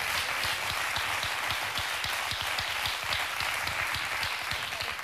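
Studio audience of a Spanish comedy television show breaking into continuous, fairly loud applause, a steady dense clatter of many hands clapping with no speech over it.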